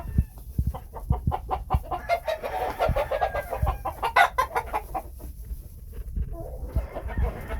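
Phoenix chickens at a Medina farm, a white cock among them, cluck in a steady busy chatter with a few louder calls rising over it, close and continuous throughout.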